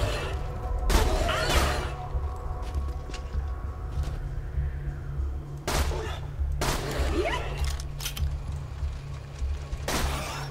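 Gunfire in Borderlands 2 with a very basic gun, several sharp bursts of shots spaced a few seconds apart over a steady low game background hum.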